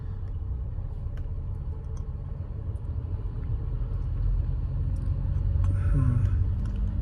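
A car engine hums and rumbles steadily at low pitch during a driving lesson, rising slightly in loudness as the car pulls away, with faint interior noise and no clear talking.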